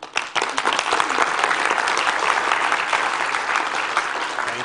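An audience at a young scientist challenge event breaks into loud, sustained applause, a dense wash of clapping that starts abruptly and holds steady throughout.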